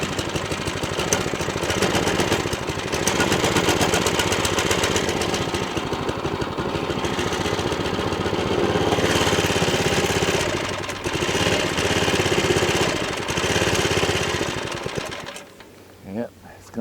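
Small Baja DB-30 (Coleman CT100U) mini-bike engine idling on choke while warming up, a loud, steady, close mechanical chatter running for most of the clip, with voices talking over it before it cuts off near the end.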